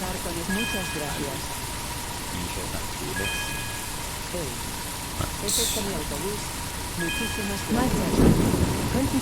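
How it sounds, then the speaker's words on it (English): Rain falls steadily with rumbles of thunder in the video game Tourist Bus Simulator, building to a louder crack near the end, while a voice talks over it at times. "This thunder is the loudest thing ever."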